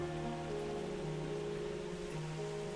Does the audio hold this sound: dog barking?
no